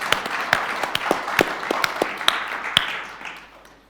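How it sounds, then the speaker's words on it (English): A remote audience at a live cardiovascular case broadcast claps, sparse separate hand claps ringing out at moderate level over a few seconds before tapering off. "So I think we can now clap the hands"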